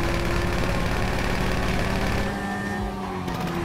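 A motorbike engine in GTA 5 runs close and loud with a steady mid-pitched drone, easing off slightly toward the end.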